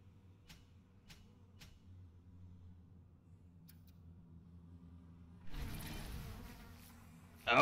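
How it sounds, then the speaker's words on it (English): Insect swarm attack plasmid in the video game BioShock, a quiet buzzing hum with faint clicks that swells into a louder rushing swarm burst near the end, without any talk. "Unleash insects against groups of enemies."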